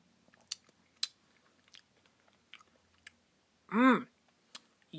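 Someone bites and chews a Dairy Queen Reese's Peanut Butter Cup Pie Blizzard: scattered close, soft clicks and crunches, then one brief louder burst, with no talking.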